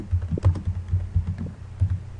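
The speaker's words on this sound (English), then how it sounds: "Type your comment in the text box" Keys on a computer keyboard clack in a steady, uneven run of close taps while a comment is typed, with no voices present.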